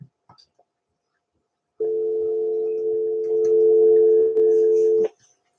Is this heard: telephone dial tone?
yes